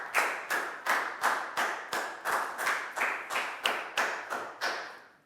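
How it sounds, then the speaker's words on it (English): In a children's classroom, a round of applause comes out as about thirteen regular rhythmic claps, each a sharp hit with a short decay, fairly close and moderately loud, paced in unison with no talking. "Big round of applause for Nadia."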